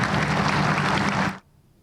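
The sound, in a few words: audience applause at project event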